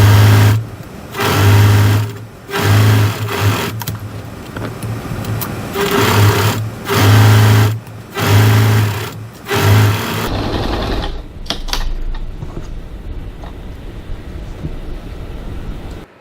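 A sewing machine stitches the side seams of a bag, running in short bursts with brief pauses, loud and close, then stopping near the end.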